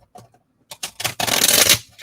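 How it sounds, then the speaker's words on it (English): A deck of oracle cards being shuffled by hand: a few soft taps and riffles, then a longer, crisp, close flurry of cards. "Let's see if I can't shuffle these real quick."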